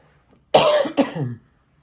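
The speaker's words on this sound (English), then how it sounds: "Had a little bit of a coughing attack." A short burst of two harsh coughs close to the mic, the first louder and longer, with near silence before and after.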